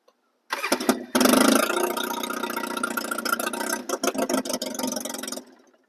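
A Polaris ATV engine cranks briefly, then catches and runs at a loud, steady idle up close, with a few uneven stutters before it cuts off.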